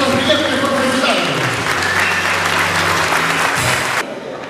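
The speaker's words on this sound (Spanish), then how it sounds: "tengan un aplauso para nuestros brillantes profesionales" Loud audience applause rings out for newly graduated professionals at a graduation ceremony, sustained and dense before cutting down sharply near the end, with a faint voice underneath.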